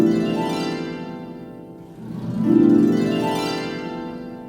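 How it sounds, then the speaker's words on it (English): Orchestral harp glissando from a sample library: two sweeping runs of rapidly plucked strings, the first falling away and the second rising up and swelling into a loud ringing chord, played alone. "the harp, sometimes we're gonna have glissandos."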